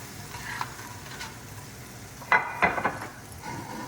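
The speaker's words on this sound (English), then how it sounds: "So this comes out now into my pot, into my pan. Mushroom and beef patty." Mushrooms and a beef patty frying in a pan on the stove give a steady sizzle, with a few louder bursts of crackle and stirring near the end.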